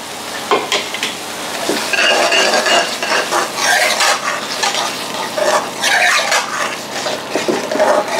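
A potato curry is stirred as it fries in a pan, with a utensil scraping and clinking against the metal in bursts over a steady sizzle, close and loud with no talking.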